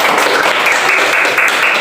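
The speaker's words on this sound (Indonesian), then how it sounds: "Oke, tepuk tangan bersamanya." Classroom of students clapping hands together, a dense, continuous burst of many overlapping claps close by, steady and loud for about two seconds.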